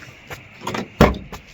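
Door of a 1970s Camaro being opened, a short mechanical click and clunk of the latch and hinges, close up and fairly quiet.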